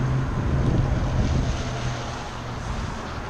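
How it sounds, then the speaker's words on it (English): Steady wind roars and buffets the microphone outdoors, a broad constant rush with a low rumble and no voices. "Got really windy."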